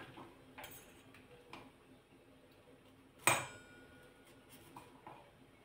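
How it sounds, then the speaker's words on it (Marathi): Fresh coconut being chopped quickly on a wooden board, a run of soft clicking knife taps topped by one sharp louder knock midway. "तर मी पाटावरच पटपट कट करते"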